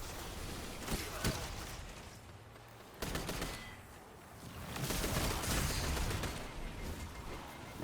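A video game firefight roars with dense gunfire throughout, with sharp louder volleys near the start and a second swelling barrage toward the end.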